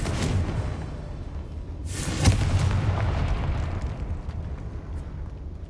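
A Confringo fire-spell blast in Hogwarts Legacy, a booming burst about two seconds in that rolls into a rumbling, crackling tail over steady game ambience.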